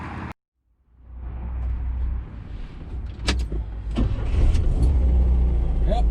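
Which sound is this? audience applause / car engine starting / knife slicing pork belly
car engine starting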